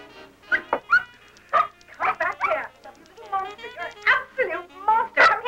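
A dog yips, barks and whimpers in short bursts close by, mixed in with talking voices throughout.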